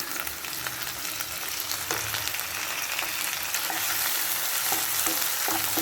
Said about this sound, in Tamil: வெங்காயம் நல்லா வதங்கிடுச்சு. இஞ்சி பூண்டும் நல்லா வதக்கியாச்சு.